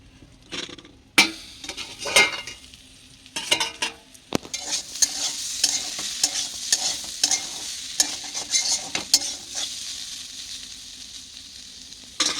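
Food frying in a pan on a home stove while rice cooks nearby, a steady close sizzle running throughout, broken by repeated sharp clinks and scrapes of stirring against the pan.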